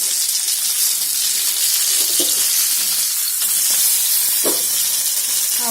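Black pomfret fish frying in oil in a covered pan, Karwar style, a steady close sizzle and hiss with occasional crackles, no talking.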